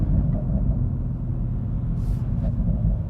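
A Toyota Supra Mk5 with a B58 engine and a Supersprint OPF-delete exhaust cruises at 40-50 mph, giving a steady low engine and road rumble that is smooth and even throughout, with no speech.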